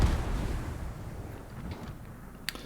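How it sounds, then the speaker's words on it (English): A battleship salvo lands in World of Warships, a deep rumbling boom that fades across a couple of seconds and ends with a short sharp crack. "that's a battleship salvo inbound"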